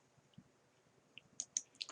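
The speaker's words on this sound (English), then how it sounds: "Clicking on this doc file," Mouse clicking on a document file at a computer, a few quiet close clicks bunched near the end of a short, otherwise near-silent stretch.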